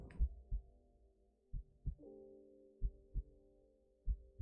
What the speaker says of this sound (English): A fucking heartbeat layered over it too